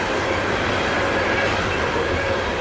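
A loaded CSX coal freight train of hopper cars rolls past close by in Maryland, a loud steady roar of wheels on rails with a faint thin squeal above it.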